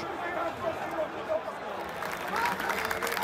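A football stadium crowd at a Greek league match applauds the players at the final whistle, a steady distant wash of clapping with a commentator's voice talking over it.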